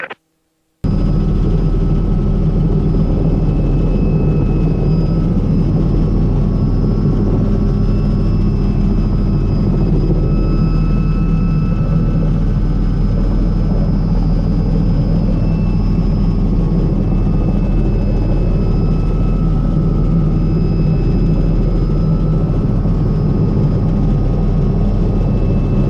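A Robinson R66 turbine helicopter runs continuously and loudly at close range, a steady rotor thump and whine under lift-off and hover, with no voices heard.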